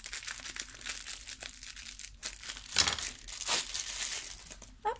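Plastic packaging crinkling and tearing as small calendar items are unwrapped, close, irregular rustling bursts with one louder crackle midway, no talking.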